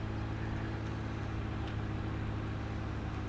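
A car pulls out of a junction in the Farming Simulator 17 video game, a faint, steady engine hum with no other sounds.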